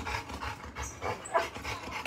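Dog panting up close in a home setting, a steady run of quick rhythmic breaths with a brief brighter squeak partway through, no talk over it.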